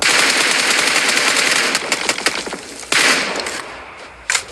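Rapid automatic gunfire from the battle royale game PUBG during a competitive esports match, loud bursts of shots with brief gaps and a final burst, no voices.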